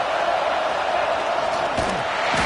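Stadium crowd roars steadily in College Football 26 during a Clemson vs Georgia Tech game, a continuous dense wash of cheering with a brief thud near the end.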